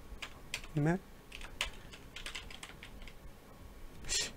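Quiet, uneven clicking of fingers typing on a computer keyboard, with brief vocal sounds mixed in.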